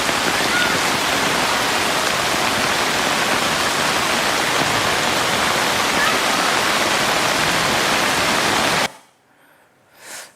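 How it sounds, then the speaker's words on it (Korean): Flood water rushes across a road after heavy rain, a loud, steady roar of broadband noise that cuts off abruptly near the end, leaving a brief quiet stretch. "거기도 보니까 이렇게 물난리가 났더라고요."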